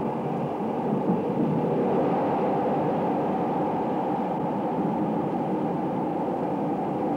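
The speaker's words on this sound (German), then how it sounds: "Zum ersten Mal überquert unser Zug nun den Rhein, den Strom, dessen Namen er trägt." Rheingold train crossing a bridge over the Rhine at Cologne, a steady broadband rumble of wheels and carriage noise, loud and continuous throughout with no talk.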